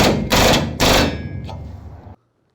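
A rivet is set into the aluminum skin of a 1949 Spartan Manor trailer, with two sharp, loud pneumatic bursts close together followed by a shorter tap and a fading rattle, then silence.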